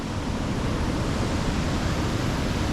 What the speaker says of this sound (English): I like the way that the waterfall is flowing amongst all of these buildings and fences and stuff